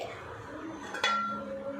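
A metal lid clanks down onto a pan of vermicelli upma, a single bright clink that rings briefly over faint kitchen background noise.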